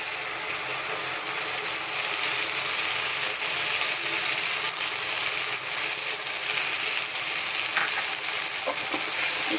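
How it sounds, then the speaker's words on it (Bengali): Mustard paste sizzling in hot oil with fried onions and garlic, a dense steady frying hiss with faint scraping from stirring, continuous and close for the whole stretch. "আমি এখন এই বাটা সর্ষেটা দিয়ে দেবো।"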